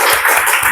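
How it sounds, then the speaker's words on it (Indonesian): Classroom audience clapping hands after group presentations, a brief burst of loud, close, dense applause. "Ayo kita tepuk tangan."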